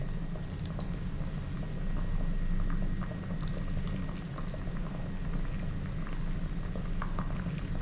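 Steady bubbling and gurgling of soup with added vinegar and chili boiling in a pot, continuous and close, with no talking.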